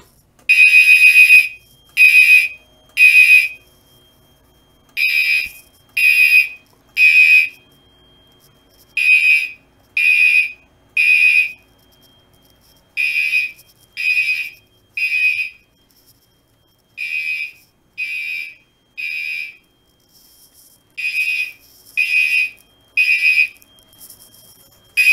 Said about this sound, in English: we should actually pull a fire alarm